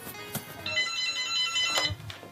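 A telephone rings in a Liverpool home in 1998, giving a bright, warbling electronic tone that starts partway in and holds steadily, mixed with a few thuds and room noise.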